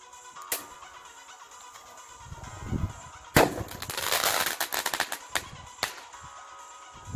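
A cheap Chinese remote firing system ignites a firework cue with a sharp pop, then a crackling, fizzing burst and scattered cracks, loud and close.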